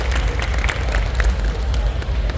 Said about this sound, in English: Round of applause for Miss Lexi.